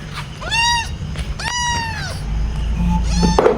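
A small kitten meows loudly and close by, giving three drawn-out, rising-and-falling cries spaced about a second apart against faint background noise.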